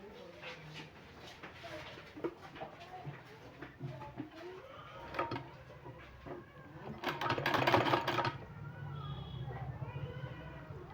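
Sewing machine stitching palazzo pant fabric panels together, a mechanical whirring in uneven bursts that swells loudest near the end, with quieter handling noises between runs.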